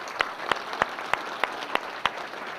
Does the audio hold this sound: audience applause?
yes